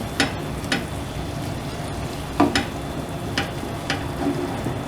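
Daal mash with green chilli being stirred in a pan, a steady soft sizzle under repeated scraping strokes of the spoon every half second or so, close up with no speech.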